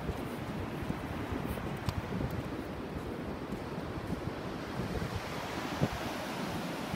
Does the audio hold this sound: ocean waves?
yes